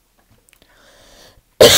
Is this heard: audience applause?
no